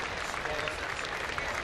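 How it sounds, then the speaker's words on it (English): A baseball crowd at a Tampa Bay vs Minnesota game applauds a fan struck by a foul ball, a sustained wash of clapping from the stands. "The round of applause you're hearing is for the fan who was hit by the foul ball"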